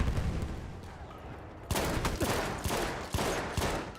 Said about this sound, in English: that's a really fucking weak shotgun